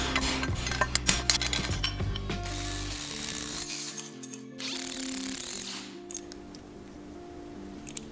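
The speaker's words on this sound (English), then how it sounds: "Now we can dismantle the remaining bearings." A car's rear axle is being taken apart to remove its bearings. There is repeated ratcheting and clicking of a tool, metal parts clink and rattle, and a short whirring burst of mechanism noise follows, all close and without talk.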